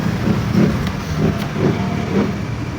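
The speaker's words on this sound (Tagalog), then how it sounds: "maingay yung ating video dahil may dumana jeep" A jeep rumbles past nearby, a loud low engine drone with rhythmic thumps and no talking.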